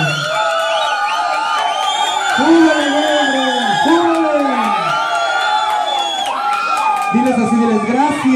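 Party crowd cheering and whooping at a lively nighttime contest, with loud shouts and whistles rising in bursts over continuous chatter and an emcee's voice throughout.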